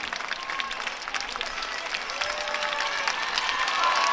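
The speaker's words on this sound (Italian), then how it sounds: "Grande l'entusiasmo della folla qui in Via Duomo." Crowd lining Via Duomo at the Sartiglia festival claps and cheers, a broad wash of applause that builds slightly louder toward the end, heard from amid the spectators.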